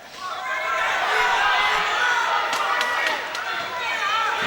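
A loud crowd at an MMA event, sustained roaring and cheering that swells and holds throughout, with sharp shouts on top and a commentator talking over it.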